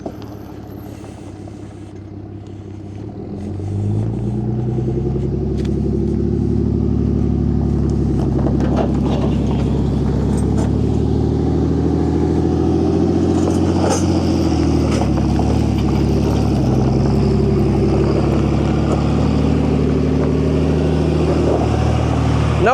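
A dump truck towing a dump trailer pulls up near a CAT 304 mini excavator at a retaining wall job, its diesel engine rumbling steadily and rising in level as it draws close, with no talk.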